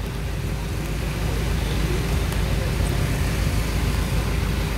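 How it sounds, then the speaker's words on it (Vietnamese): Steady roar of congested traffic on a rainy city street in Buon Ma Thuot at rush hour, a dense, constant wash of engines and rain noise heard from a truck, with no talking. "Lại kẹt xe rồi."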